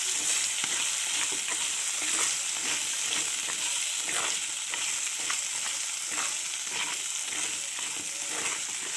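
Ginger garlic paste fries in a pan with a continuous crackling sizzle, punctuated by light stirring scrapes at an even pace, close and steady throughout with no voices.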